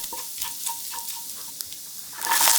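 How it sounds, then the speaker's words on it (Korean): Garlic and ginger stir-fried in hot oil in a pan, a close crackling sizzle broken by quick spatula scrapes and stirs, swelling louder near the end. "마늘과 생강을 넣고 달달 볶아서 은은한 생강향이 올라오고 노릇한 색깔이 나기 시작하면"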